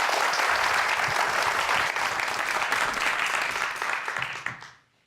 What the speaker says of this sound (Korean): 여러분들 박수 부탁드립니다.